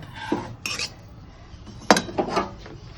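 Cooked gourd leaves lifted out of a metal wok with a utensil: a few clinking, scraping metal knocks in short bursts, close and moderately loud, with quiet pauses between.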